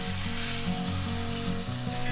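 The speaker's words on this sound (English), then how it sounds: "he's about to go make us some steaks" Steaks fry in a pan, giving a steady, close sizzle with some low humming underneath, continuous and fairly quiet, with no talk.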